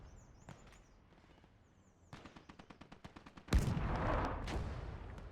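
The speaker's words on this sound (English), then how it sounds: "We fire a couple of shots." Gunfire in the Gates of Hell tank combat video game starts as a rapid, evenly spaced burst of sharp shots and ends in a single heavy, close blast with a rumbling tail.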